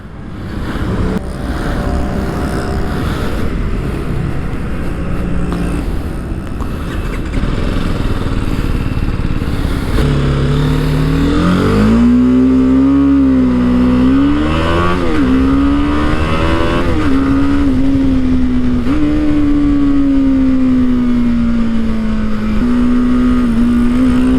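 A 2020 BMW G 310 GS motorcycle engine revs up and down repeatedly, its deep exhaust note rising and falling loudly and close by, with no one speaking.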